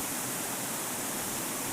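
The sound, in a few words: water flowing down from forest hillside near ashram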